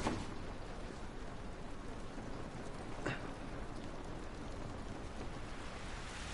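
Steady rain in The Last of Us, a dense, even hiss of falling drops spread across the whole stretch, faint and continuous with no talk.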